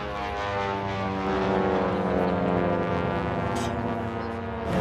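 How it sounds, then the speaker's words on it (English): Propeller airplane making a close pass at a Thunderbirds airshow, its loud droning buzz of supersonic prop tips rising and holding steady for several seconds, with a faint voice in the background. "just as the airplane passes you, you hear the buzzing noise, which is actually the crack of those prop tips going supersonic"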